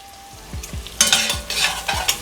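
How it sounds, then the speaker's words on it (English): Garlic hits a frying pan with a sudden burst of sizzle, broken by several scraping stirs in an uneven rhythm, close and fairly loud with no voices. "we're going to go ahead and go in with our our garlic"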